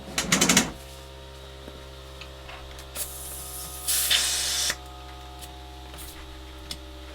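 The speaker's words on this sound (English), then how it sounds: "I need a compressor now to get the soldering running." Compressed air blasting from an air compressor nozzle while desoldering a keyboard, heard as a few short hissing bursts and one longer sustained blast over a steady electrical hum, with faint clicks between.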